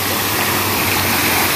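An outdoor water fountain in front of a building splashes in light rain, a steady, full hiss of falling water filling the scene evenly and without a break.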